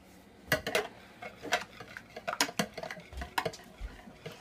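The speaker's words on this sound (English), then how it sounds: "So while she's whisking that together" A whisk clicks and taps irregularly against a bowl while beating the egg mixture for gluten-free pancakes, light metallic clinks close by with no voices.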